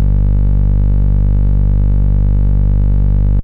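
A sustained saw lead synth bass note run through DigiDesign Lo-Fi saturation drones loud and buzzy, rich in harmonics, holding steady alone before cutting off abruptly.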